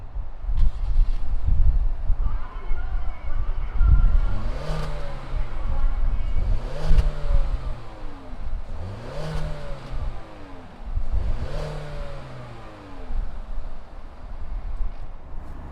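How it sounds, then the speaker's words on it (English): A 2020 Ford Fusion with a turbocharged EcoBoost engine starts, then revs four times in a row, each rise and fall distinct, heard up close over a low idle rumble. "let's fire up this Fusion and see what it sounds like"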